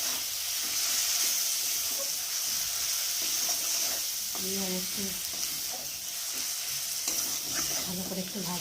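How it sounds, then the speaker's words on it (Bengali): Chopped tomatoes with turmeric and chili powder sizzle and fry in a pan for egg bhujia, with steady hissing and scraping stirs throughout, close by, and a brief word spoken over it. "ভালো করে একটু ভাজা ভাজা করে নেবো"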